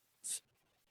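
A pen or marker writing on a board during a class 5 maths lesson gives one short scratchy stroke lasting about a fifth of a second, close and fairly loud against a quiet room.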